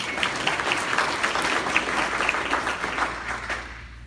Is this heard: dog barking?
no